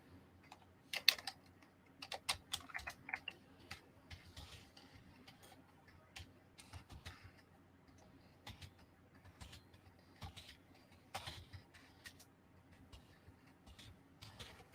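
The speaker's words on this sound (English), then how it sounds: "I'm typing the best I can do." Someone types on a computer keyboard in irregular bursts of quiet, close key clicks, with a faint low hum in the background.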